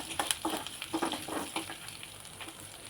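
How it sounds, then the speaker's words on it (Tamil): Quiet crackling and popping of spices frying in hot oil for drumstick gravy, irregular bursts close by with no voices. "இதெல்லாம் போட்டு நல்லா எண்ணெயில் வறுபடுற மாதிரி வணக்கிக்கோங்க."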